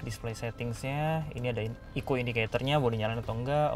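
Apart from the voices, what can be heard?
No distinct noise like a dog, phone or traffic.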